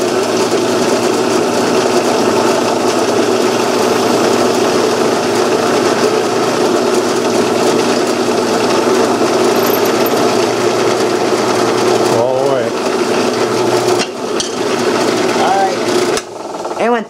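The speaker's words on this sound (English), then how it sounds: "crank disc ready to drill for the pin for the crankshaft" A drill boring all the way through a steam engine's crank disc held square in a V-block, making the crankshaft pin hole; a steady, loud mechanical whine runs throughout with brief breaks near the end.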